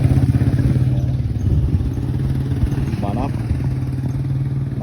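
A motorcycle engine idles close by during an emissions smoke test, with a steady, throbbing low rumble throughout, a brief clatter and a faint voice passing partway through.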